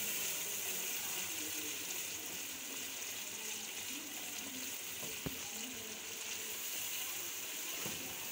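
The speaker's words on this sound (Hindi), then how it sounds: "मिक्सचर को भून लेंगे 1 से 2 मिनट के लिए" Chicken karahi masala mixture frying in a pan, a continuous steady sizzle with faint stirring and a couple of light clinks, no speech.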